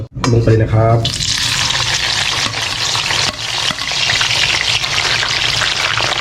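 Loud sizzling as aromatics hit hot oil in a wok, a sharp burst of frying that settles into a steady crackle and hiss, close up.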